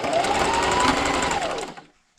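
A sewing machine backstitches a seam on a fabric dog or cat bandana, running loud and steady with a rapid needle chatter for about a second and a half before stopping abruptly.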